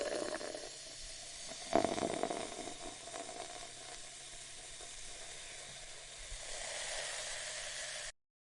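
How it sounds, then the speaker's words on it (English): A fizzy drink is poured, giving a steady hissing fizz of bubbles with a brief splashy surge near the start, fading then swelling slightly before stopping abruptly. "pouring fizzy drink."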